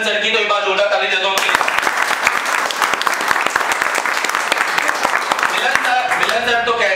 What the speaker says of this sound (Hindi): तो एक बार जोरदार ताली दे दो।